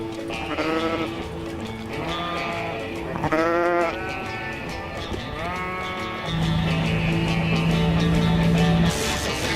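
Sheep bleat repeatedly, with wavering, quavering cries overlapping, and a steady hum enters partway through.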